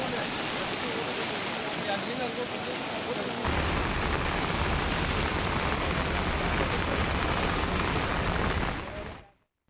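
Heavy rain pours down in the Nalgonda district during monsoon flooding, a dense, loud, continuous hiss that thickens partway through before cutting off abruptly at the end.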